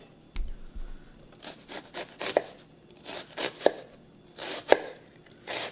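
Knife chopping ingredients for green salsa verde with xoconostle on a cutting board, a run of irregular crisp strokes with sharp louder chops, close and unaccompanied by talk.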